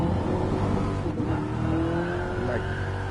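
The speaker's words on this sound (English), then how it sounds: "I can believe that this car sounds like this." A car engine revs loudly and steadily in the Gran Turismo VR racing game, with a sustained throaty roar and shifting pitch close up, a brief dip midway.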